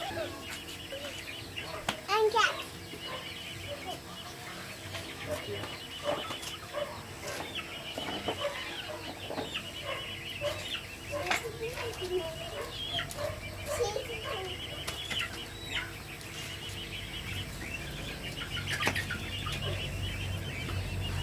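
A duck held with its legs tied and wings restrained before slaughter gives short agitated quacks and squawks scattered through steady background noise, while people talk nearby.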